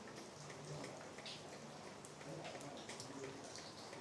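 Steady rain pattering across an open courtyard, a dense even hiss with scattered drips, continuous throughout with no voices.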